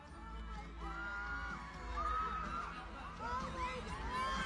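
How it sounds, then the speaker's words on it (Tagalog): Screaming concert audience at a Christmas special show in the Araneta arena, with rising waves of high-pitched shrieks and cheers heard from a distance, moderately faint under nearby voices talking. "Oh my God, grabe yung sigawan."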